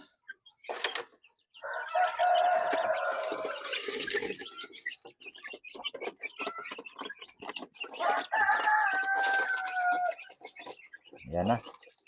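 Darag native chickens cluck and crow while feeding, a rooster's call rising clearly over busy clucking and pecking at close range, with a voice speaking in between.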